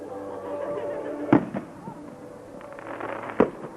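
Fireworks set off at an outdoor bonfire night party in the woodlands give two sharp, loud bangs a couple of seconds apart over a low background murmur.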